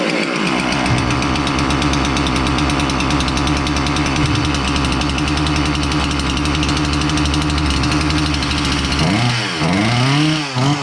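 Husqvarna 346XP chainsaw after a choke repair, running loud and close at a steady fast idle with a buzzing, rattling drone, then revving sharply up and down in the final seconds.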